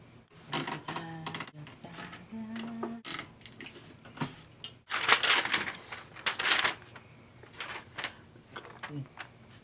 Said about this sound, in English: Let's just pull it from the notes typewriter over here.